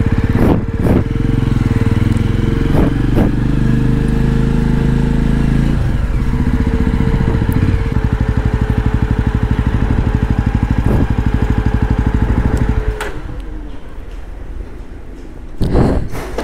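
A motorcycle engine runs loudly and close by, a continuous rough, throbbing drone that holds steady for most of the stretch before easing slightly near the end.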